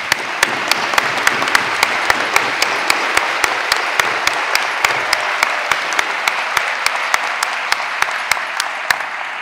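A graduation audience gives standing teachers a round of applause in a large hall, a sustained dense clapping with sharp regular clicks ticking through it at an even pace.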